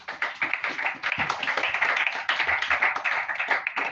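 Audience in a Christian church gathering clapping hands, a dense, steady patter of many claps filling the whole stretch with no voices over it.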